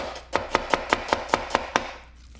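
A knife chops a red onion on a cutting board in nine quick, evenly spaced sharp taps, close and clear, with no voices.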